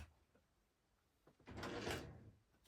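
A desk drawer slides open with a soft wooden rumble and a brief clatter of contents, fairly quiet and close, with no talking.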